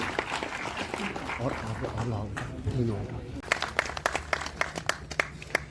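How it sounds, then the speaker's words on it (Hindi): Applause at a book launch during a folk culture festival, with a voice talking over the early part before the crowd noise thins into scattered, distinct individual claps toward the end. "थोड़ी जोरदार तालियां हो जाइए प्लीज आप सभी लोग"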